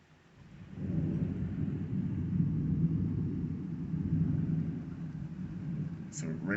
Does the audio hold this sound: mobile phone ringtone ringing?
no